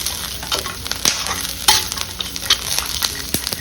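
Chutney ingredients fry in a pan with a steady crackling sizzle, broken by several sharp clinks and scrapes of stirring. No voice is present.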